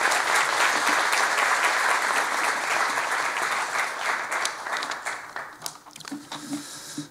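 Sustained audience applause at a 2023 military chaplaincy seminar, greeting a brigadier general coming up to present, loud and steady at first and then thinning out as it fades toward the end.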